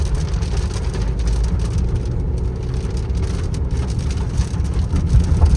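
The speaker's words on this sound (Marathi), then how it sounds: "पावसाने देखील पुन्हा एकदा हजेरी दिली आहे" Steady heavy rain drums on a car traveling the Mumbai-Goa highway during the monsoon, a dense continuous loud patter with no voices.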